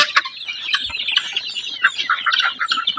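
Forty-day-old chicks in a coop give a steady run of close, dense peeping and clucking calls, overlapping and continuous with no talk.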